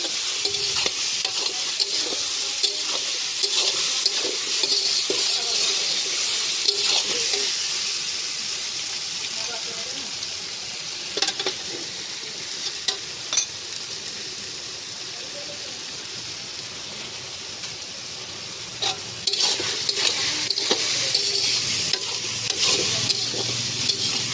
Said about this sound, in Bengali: আদাটাকে একটু হালকা ভেজে নেব।